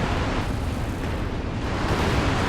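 Artillery barrage explosions in the World War II strategy game Company of Heroes 2, a dense, continuous roar of overlapping blasts and rumbling booms that stays loud and steady throughout with no pauses.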